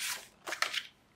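Scissors snip through a paper element for a handmade album: one crisp cut, then a quick cluster of two or three close, quiet snips, with no talk.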